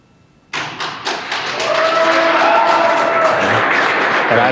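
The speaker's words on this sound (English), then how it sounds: "I don't know if you can hear the applause" Applause and a room of people clapping burst out and build at the SpaceX Crew-1 Dragon capsule splashdown off Florida, opening with a few sharp claps and swelling into sustained clapping with some tonal background hum.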